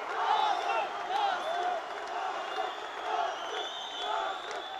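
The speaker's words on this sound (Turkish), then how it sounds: "Ve büyük tezahürat var seyirci tarafından" Arena crowd at a combat fight roaring and cheering in waves, a dense, fairly distant wash of voices with a commentator talking over it.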